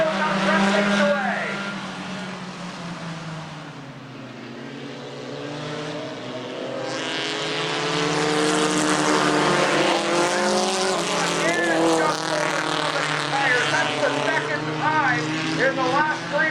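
Race cars roar around the track at a Thursday Night Thunder event, engines rising and falling loudly and continuously as they pass, while an announcer's voice carries over the racing.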